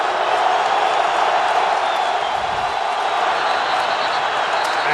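Steady roar of a football stadium crowd at a 2015 FCS quarterfinal between Northern Iowa and North Dakota State, a dense wall of voices holding loud throughout the moment.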